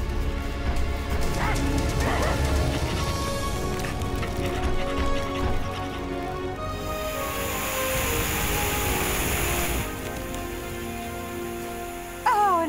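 Cartoon dogs bark and yip during a fire rescue in the animated series Transformers Rescue Bots, set over steady music and background effects with a brief whine near the end.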